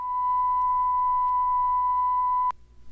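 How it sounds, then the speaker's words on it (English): A steady pure test tone from a CBS Laboratories professional test record plays through the left speaker. The single unbroken tone holds for about two and a half seconds, then cuts off sharply with a brief click. "In the next series of tests, tones are sent to the left speaker."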